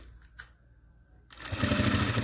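A sewing machine stitches a zipper into a fabric pencil case panel, its motor whirring steadily and growing louder near the end after a brief quiet pause with small handling noises.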